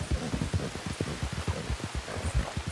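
Heavy rain in Red Dead Redemption 2, a steady dense hiss of downpour under rhythmic clopping hoofbeats of a horse moving along.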